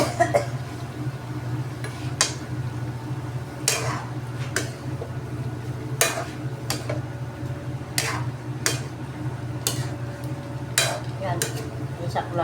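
Vegetables sauté in a pan with a steady low sizzle, punctuated by sharp, irregular spatula clicks and taps against the pan every second or two, fairly close.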